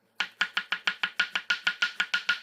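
A sharp knife slices vegetables on a cutting board, about a dozen crisp, evenly spaced chops in steady quick rhythm, close and clear with no talking.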